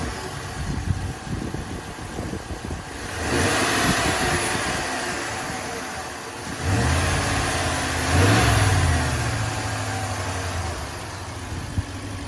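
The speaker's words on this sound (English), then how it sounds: "let me just start this up for you so you can hear how the engine sounds" A Ram Rebel 1500 pickup with a 5.7-litre Hemi V8 starts up and runs, settling into a steady idle broken by a few louder swells of revving. It is heard close and alone.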